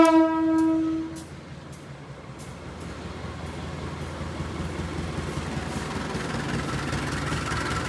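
The Penataran Doho passenger train in East Java, Indonesia sounds its horn briefly at the start, then the steady low rumble of rolling train cars builds as the train pulls away.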